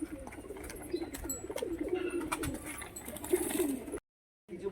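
A long-kept, tame pet pigeon coos repeatedly close by, soft rolling calls recurring over several seconds against light background noise, then a short break before the sound resumes.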